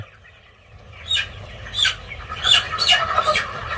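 Chickens in a broiler poultry farm shed call in a series of short chirping squawks, close and fairly loud, rising in density toward the end.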